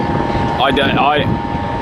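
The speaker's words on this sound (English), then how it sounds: "The helicopter is taking off for a joy flight" A helicopter taking off for a joy flight at a Sea World theme park gives a steady, loud broadband whirring drone with a faint constant tone, while a brief wavering voice-like sound rises and falls over it midway.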